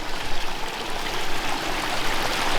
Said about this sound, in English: There's the stream on the side, gurgling down through